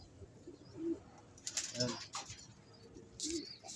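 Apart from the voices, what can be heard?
pigeons cooing in a trap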